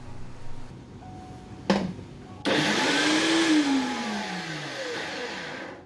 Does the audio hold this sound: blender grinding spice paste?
yes